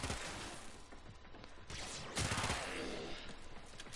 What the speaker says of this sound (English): which is his Radial Javelin, it summons these energy spears